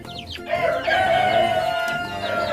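A Rhode Island Red rooster crows once, a loud drawn-out call close by, with other chickens clucking faintly before and after on a broiler and Rhode Island Red breeding farm.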